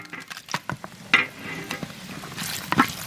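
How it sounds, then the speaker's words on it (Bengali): Bay leaves and dried red chillies sizzle and spit in hot mustard oil, tempering a dal, with sharp crackling bursts over a low continuous hiss, close up and with no talking. "এখন ডালে ফোড়ন দেবো, সর্ষের তেল, তেজপাতা, শুকনো লঙ্কা"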